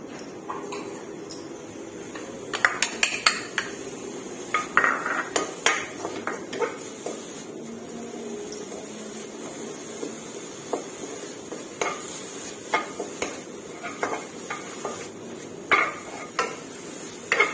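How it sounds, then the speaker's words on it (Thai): Chilies dry-roasting in a pan for a Thai curry, with small scattered clicks and scrapes of stirring and light crackling repeating irregularly throughout, close and fairly quiet with no talk. "หลังจากนั้นคั่วพริกให้หอมค่ะ"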